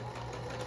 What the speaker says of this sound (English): back stitch a little bit, and then I run with it